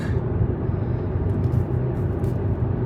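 A Volkswagen e-Golf electric car driving at a normal pace gives a steady, loud road and tyre rumble with a low, even cabin hum and no talking.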